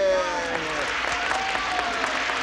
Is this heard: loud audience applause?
yes